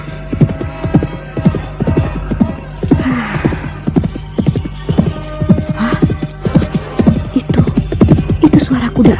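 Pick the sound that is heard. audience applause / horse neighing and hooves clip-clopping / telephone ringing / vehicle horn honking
horse neighing and hooves clip-clopping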